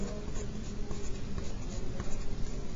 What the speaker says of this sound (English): and then I would write down number 11